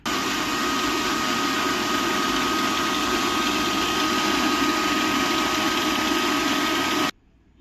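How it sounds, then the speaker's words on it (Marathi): A kitchen mixer grinder whirs loudly and steadily as it blends coconut and boiled raw mango with water, running unbroken for about seven seconds before cutting off abruptly. "हे आता आपण छान फिरवून घेऊया मिक्सरमधून।"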